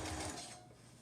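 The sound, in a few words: sewing machine sewing a basting stitch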